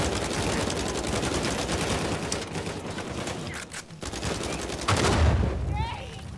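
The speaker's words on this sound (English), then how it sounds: "Keep on going. Keep shooting." Uncharted 4 combat fills the space with sustained, loud rapid gunfire from several weapons, briefly thinning around the middle before heavier blasts and a short whooshing effect near the end.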